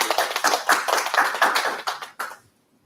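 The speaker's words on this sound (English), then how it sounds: "Let's give him a round of applause." Audience applause for a speaker being introduced at an evening talk, a dense burst of clapping hands that swells, holds steady and then cuts off sharply near the end, with no voices over it.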